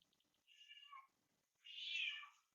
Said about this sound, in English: My cat is screaming.